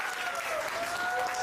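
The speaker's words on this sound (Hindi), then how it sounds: "तो एक जोरदार ताली बजाकर स्वागत" Audience applause at an interview event, a dense, steady patter of clapping that holds at an even level from start to finish, with a faint tonal hum running underneath.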